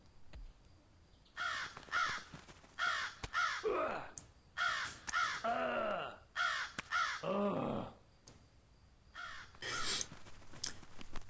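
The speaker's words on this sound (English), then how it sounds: "These black crows are intended to be more of a nuisance than anything." Black crows caw repeatedly in the video game Shrouded Aspect, harsh close calls in spaced bursts alongside game sound effects, with a voice talking between them.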